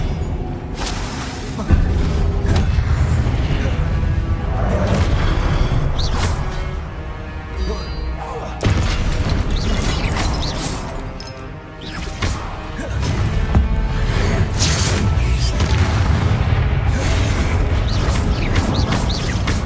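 Repeated booming blasts from the Confringo explosive spell in Hogwarts Legacy, played on PS5, crash through dense game music and effects, loud and continuous with several sharp impacts.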